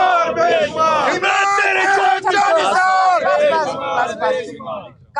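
Large crowd chanting slogans in unison at a political gathering outside Imran Khan's residence, loud and continuous with rising and falling rhythmic shouts, close and dense throughout.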